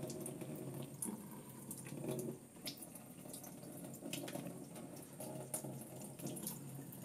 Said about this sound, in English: place the piece of film in the Remjet remover and then get water on it